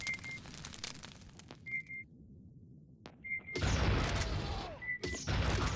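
Pulse rifle grenade launcher fire in Aliens versus Predator Classic 2000, loud blasts and a dense barrage of noisy bursts with high electronic beeps between them, no voices.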